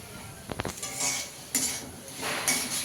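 A utensil scrapes and knocks against a pan while food is stir-fried over a gas flame, with a few clear clinks and scraping sweeps and a faint sizzle underneath, fairly close.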